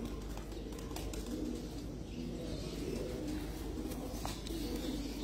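Soft, low cooing of pigeons on a Dubai rooftop, repeating at close range over a quiet background hum, with a few faint chirps.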